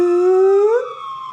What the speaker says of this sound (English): That's the ambulance. That's the ambulance.